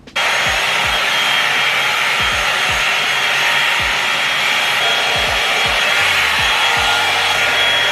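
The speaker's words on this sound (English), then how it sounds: "I have my blow dry brush ready to go." A blow dry brush drying hair roars steadily and loudly from start to finish, a close, constant airy whoosh with a faint low rubbing of bristles beneath and no talk.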